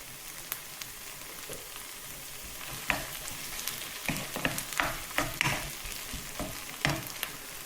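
Mussels in a tomato and chilli sauce sizzle in a wok, a quiet steady bubbling frying with scattered sharper pops and crackles, plus a few brief stirring scrapes and clicks.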